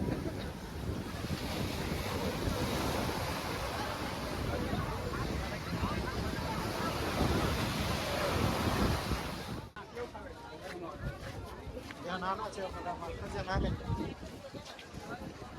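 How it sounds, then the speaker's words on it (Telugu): Sea waves at Udaipur beach roll in as a loud, continuous wash with wind buffeting the microphone. The surf drops to a lighter hiss partway through, and speech runs faintly underneath. "ప్రతి అల కూడాను ఈ ముందు వరకు ఆల్మోస్ట్ వస్తుంది"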